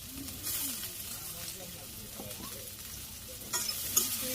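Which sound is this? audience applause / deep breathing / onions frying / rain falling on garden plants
onions frying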